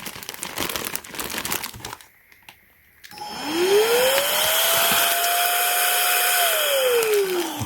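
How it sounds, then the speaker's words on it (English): ROEDIX electric air duster, a high-speed handheld blower, spins up after a short silence and runs steadily with a loud whine whose pitch climbs and holds, blowing out and vacuuming dust from stairs. "And if you want to vacuum it, just use the back."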